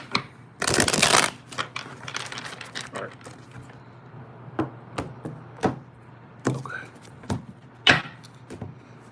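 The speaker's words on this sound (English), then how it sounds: "Okay, one more shuffle." Tarot cards are riffled in a long crisp burst, then tapped and squared with scattered sharp clicks, in a quiet room.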